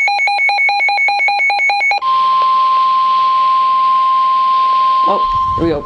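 A phone's emergency alert for a severe thunderstorm warning: a loud pulsing two-tone pattern of rapid repeated beeps, then a long steady tone, with a voice breaking in briefly at the end.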